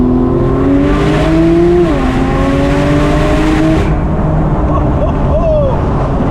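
A Porsche 911 Turbo S in full boost mode accelerating hard, heard loud and close from inside: the engine note climbs in pitch, shifts once, then climbs again before the roar eases off.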